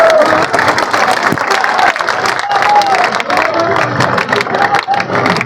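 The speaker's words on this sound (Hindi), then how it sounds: "जोरदार ताली बजाइए।" A crowd claps and murmurs loudly at a political gathering in Hindi-speaking India, a steady roar of applause with occasional voices rising through it.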